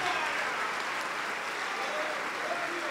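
A church congregation applauds steadily throughout, a dense even wash of clapping with voices mixed in beneath it.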